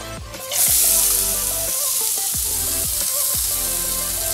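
Mushrooms deep frying in a pan of hot oil, a loud continuous hiss and crackle that swells sharply at the start and then holds steady, with some tonal background music underneath and no talk.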